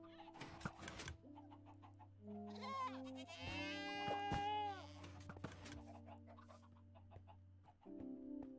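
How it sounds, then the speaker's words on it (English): Screaming goats in Minecraft, loud bleats and shrieks that repeat over several seconds, mixed with clucking chickens and background game music, near and prominent. "She went through the time to find and get a screaming goat."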